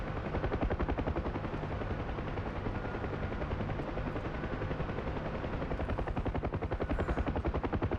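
Sustained rotor thump of a UH-1 Huey in a DCS flight simulation, with steady rapid gunfire aimed at it blending into the dense, continuous engine roar throughout.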